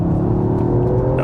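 A Toyota GR Yaris with traction control fully off in sport mode accelerates, giving a close, steady engine roar with rising harmonic tones and no voices.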